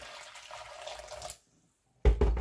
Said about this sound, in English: I'm going to just add a little bit of boiling water just now to this